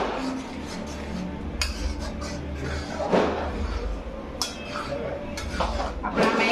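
Ingredients and cream are mixed in a pot for pasta, with a spoon clinking and scraping against the metal in irregular taps under continuous room noise and intermittent talk.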